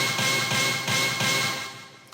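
A 90s rave stab patch called Hit from the Rave Generator 2 plugin plays as a bright, dense synth chord that repeats in quick pulses at a steady rhythm, then fades out near the end.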